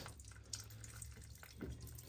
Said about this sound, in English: All right, we've got water pouring.